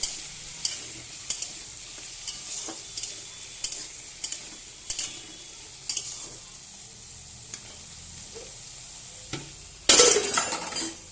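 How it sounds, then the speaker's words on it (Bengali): Potatoes frying in a pan with a faint continuous sizzle, broken by scattered clicks and scrapes of a utensil stirring, ending in a louder burst of clatter near the end; no voices. "এবার আমি নেড়ে দেবো।"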